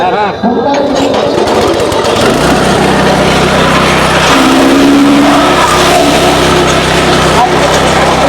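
A petrol-engine fodder cutting machine runs loud and steady, its engine drone holding constant throughout with a heavier low hum setting in after the first couple of seconds, while voices talk over it.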